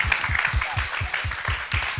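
Short burst of audience clapping at a treasure-hunt evangelism seminar, a few seconds of moderate, fairly even applause with some rhythmic low thumps beneath it.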